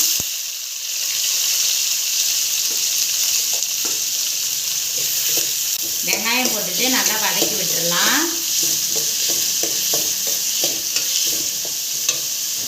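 Chopped large onions hit hot tempering oil for a Tamil set dosa vadai curry, a steady broadband sizzle with occasional stirring scrapes; a voice sings or talks briefly midway.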